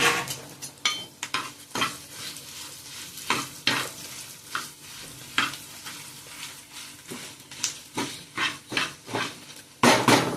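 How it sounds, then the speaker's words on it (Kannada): Coriander seeds and cumin frying in a pan with onion while a spoon stirs them, giving repeated loud scraping strokes in an irregular rhythm over a crackling sizzle, close and clear. "ಆಗ ನಾನು ಇದಕ್ಕೆ 3 ಟೇಬಲ್ ಸ್ಪೂನು ಧನಿಯಾ, 1 ಟೇಬಲ್ ಸ್ಪೂನ್ ಜೀರಿಗೆ ಹಾಕಿ ಫ್ರೈ ಮಾಡ್ತೀನಿ."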